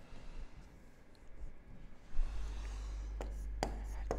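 Marker or chalk scratching across a classroom board while a chemistry equation is written, a few quiet strokes followed by sharper taps and clicks near the end, with a steady low hum underneath.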